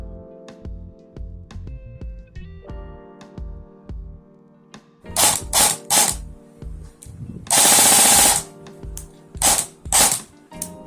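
A Cyma 612 M4 airsoft rifle on a 9.6V NiMH battery clicks and whirs with mechanical gear noise, then fires several short loud full-auto bursts, heard close and without speech.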